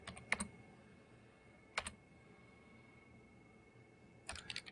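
A username being typed on a computer keyboard while logging in to a router: three short, quiet bursts of key clicks separated by pauses.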